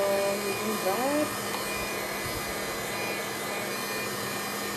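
A heat gun blows hot air over a mixed media canvas, a continuous whooshing roar of fairly loud, steady airflow that runs the whole way through.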